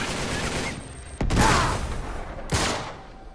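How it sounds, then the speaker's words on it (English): Gunfire in the video game Uncharted 3 Remastered, with a rattling burst of shots followed by two sharp, loud individual reports. "I shot you in the hand!"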